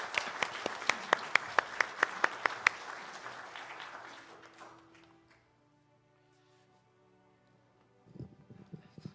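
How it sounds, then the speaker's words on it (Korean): A church congregation at a Sunday service applauds to welcome a speaker giving a testimony: a few sharp, evenly spaced claps stand out close by over softer crowd clapping that fades out after about four seconds, then near silence. "우리 박수로 맞이해주세요"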